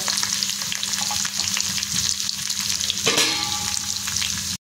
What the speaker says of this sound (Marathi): आता ह्याच्यामध्ये आपण कढीपत्ता टाकून घेणार आहोत आणि हिंग